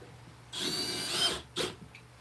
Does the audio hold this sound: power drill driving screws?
yes